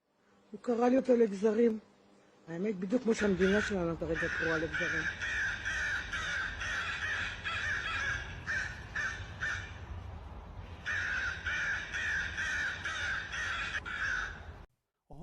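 Crows cawing in Jerusalem where two birds tug at an Israeli flag, several loud harsh caws up close at first, then a long rough stretch of scratchy calls and flapping noise to the end.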